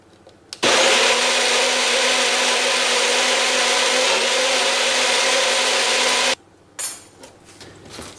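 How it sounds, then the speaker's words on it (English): A blender runs steadily for about six seconds, loud and close, whirring through wet quinoa brownie batter, then cuts off, with some faint clatter afterward. "And then I'm going to blend these ingredients together."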